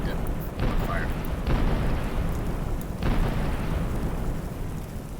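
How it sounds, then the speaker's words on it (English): Torches catch fire in a first-person roguelike dungeon game, giving three close whooshing flare-ups over a steady, loud fiery roar. "You can just light them on fire."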